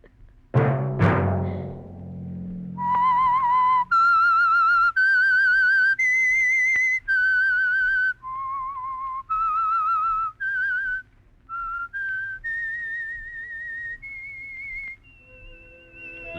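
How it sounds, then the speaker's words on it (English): A lone whistled melody opens The Whistler radio show after a brief low musical hit. The clear, steady notes move up and down in a slow, haunting line and play alone without speech. "Let that whistle be your signal for the Signal Oil program, The Whistler"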